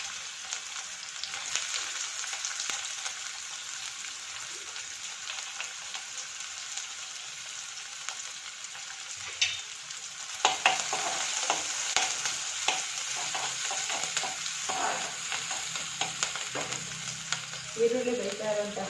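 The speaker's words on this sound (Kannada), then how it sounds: "ಈಗ ಎಣ್ಣೆ ಕಾದಿದೆ, ಇದಕ್ಕೆ ಈರುಳ್ಳಿಯನ್ನು ಹಾಕ್ಕೊಳ್ತೀನಿ" Onions fry in hot oil as a steady, moderately loud sizzling hiss that grows busier and crackles more after the midpoint, continuing throughout with occasional faint clinks; no speech.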